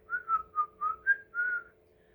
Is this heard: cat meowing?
no